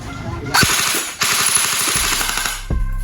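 An E&C 624 M4 Compact CQB airsoft rifle fitted with a Noveskie Sound Blaster fires two long full-auto bursts, a rapid close rattle of evenly spaced shots with a short pause between them.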